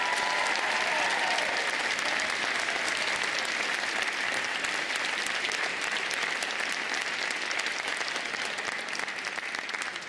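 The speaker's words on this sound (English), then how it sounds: "let's also have one more round of applause for Tamara Dworetz." A full audience applauds at a Georgia Philharmonic orchestra concert, a dense, even wash of clapping that holds for about ten seconds without talk.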